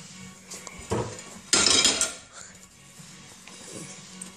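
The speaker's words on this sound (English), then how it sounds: "Let's get a plate out" A plate is taken out in a home kitchen, a couple of clinks and a louder crockery clatter as dishes knock together, then quiet handling noises.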